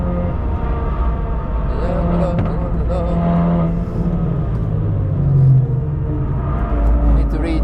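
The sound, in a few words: Ford Focus RS driving on the Nürburgring track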